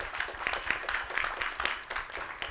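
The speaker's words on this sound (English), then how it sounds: "Please give them a round of applause." Audience applauding panelists after an energy-sustainability discussion in Thailand, a soft, quiet patter of scattered hand claps with a few louder individual claps rising and falling.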